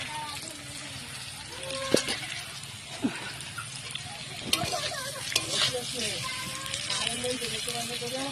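Food sizzles steadily in a pan, with a few sharp clinks and scrapes of stirring scattered through it and voices in the background.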